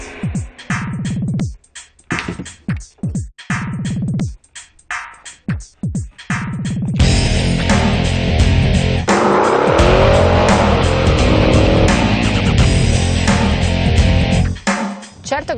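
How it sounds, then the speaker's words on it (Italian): A Maserati Quattroporte GTS engine in sport mode revs in sharp bursts, then roars continuously and loudly as it accelerates hard, with a rising, throaty note. "il bellissimo rumore che fa quando si sceglie la modalità sport con questo pulsante"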